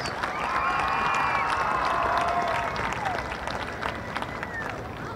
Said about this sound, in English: Give a round of applause for our class of 2019 Georgette seniors.